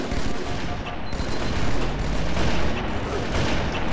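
Dense video-game gunfire from a sniper rifle and battle rifle in Halo 2 multiplayer, a continuous loud barrage of overlapping shots and booms with some background voices.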